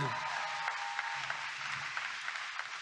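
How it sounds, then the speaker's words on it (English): Canned applause edited into a political speech, a dense, even wash of clapping from a small front-row crowd, steady and somewhat faint throughout with no voices on top. "Just listen to the canned applause from that front row of 20 people."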